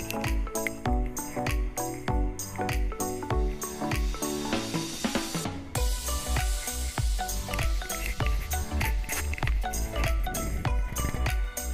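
Water hits a hot wok of frying peas for a vegetarian Bengali ghugni, bursting into loud sizzling and hissing under busy clinks and stirring scrapes, with the sizzle flaring sharply midway before settling back into steady frying.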